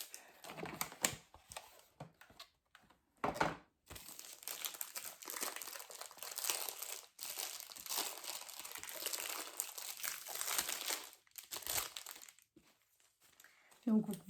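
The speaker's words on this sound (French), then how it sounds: "on va ouvrir la petite boîte et on va découvrir ce qu'il y a à l'intérieur" Rustling and crinkling as a small box from an AliExpress package is handled and opened, bursts of papery crackle and tapping close up, with someone talking in French between the sounds.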